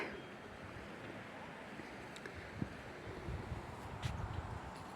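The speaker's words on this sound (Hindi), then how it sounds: "आज हवा भी बहुत ज़्यादा हो रही है, देख सकते हो आप कितनी हवा चल रही है।" Strong outdoor wind buffeting a microphone, producing a constant broad rushing roar with a few soft thumps and gusts toward the end.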